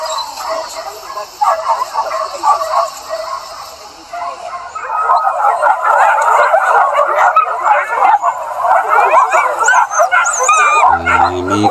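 Hunting dogs on a chase after a deer in Sumatra bark and yip repeatedly, loud and close, with the barking growing more frantic and continuous in the second half over faint voices.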